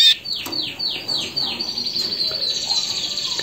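Canaries in breeding cages give a quick series of repeated, descending chirps close by, followed by softer, rapid twittering and faint background calls.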